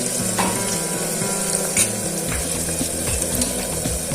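Onions frying in a pan until golden brown for egg curry, a steady close sizzle running throughout with faint stirring clatter and no voices.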